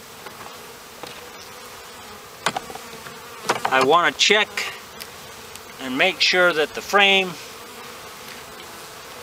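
Honeybees buzz around an opened hive while the brood nest frames are inspected for Varroa mites, a steady insect hum running under a person talking close by.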